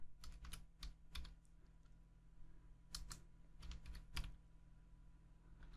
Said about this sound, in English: What I'm going to type in here is psoriatic